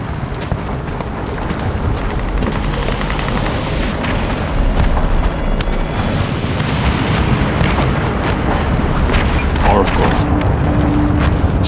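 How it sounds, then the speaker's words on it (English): Missile strikes pound a city in the video game Batman: Arkham City, a dense, continuous roar of booming explosions and rumbling blasts that stays loud throughout and swells slightly in the second half. "Strange is launching missile strikes on Arkham City from Wonder Tower"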